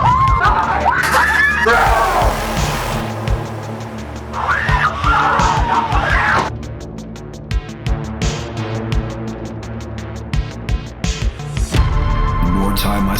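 People scream and yell inside a haunted attraction, with loud bursts of shrieking that come and go among muffled noise, thumps and clatter from the setting.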